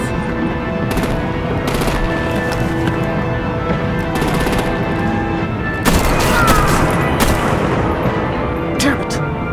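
Dense, continuous artillery and machine-gun fire in a Batman video game battle, with rapid overlapping bursts and booms throughout and a louder, heavier volley near the end.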